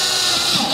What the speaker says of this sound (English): I have another drill with a drill bit on it, and all we're going to do is create some pilot holes